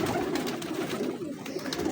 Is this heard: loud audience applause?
no